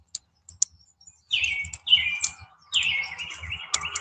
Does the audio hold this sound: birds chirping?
yes